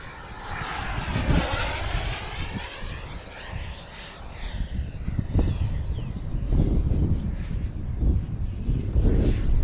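A Freewing Eurofighter 90mm electric ducted-fan RC jet makes a high-speed pass, a loud rushing whine that sweeps past close by and roars on through the clip.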